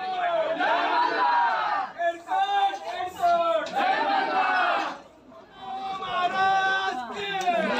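A noisy crowd at Jejuri temple calls out and chatters in loud overlapping voices, with repeated shouted phrases rising and falling in close bursts.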